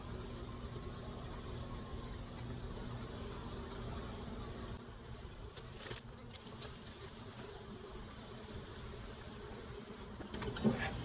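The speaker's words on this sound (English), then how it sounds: "this is a very late season swarm" Late-season honey bee swarm in late August, a steady droning buzz of many bees close by, continuous throughout with faint handling noises near the end.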